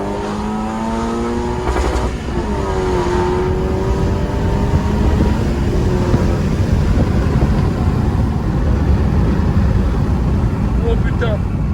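A 400 hp stage 3+ tuned Mini Cooper accelerating hard down a straight on a small road, engine note climbing through the gears with loud, close, continuous roar and a voice talking over it.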